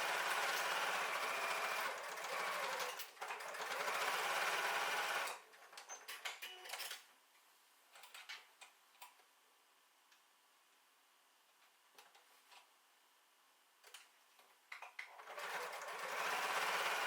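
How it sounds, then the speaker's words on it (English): A sewing machine stitches two lines across a tote bag pocket at a 3.5 stitch length, with a loud steady whirring run, a quiet stretch of light ticks and clicks, then a second whirring burst. "Sew 2 lines of stitch across the pocket trimming to secure it into place."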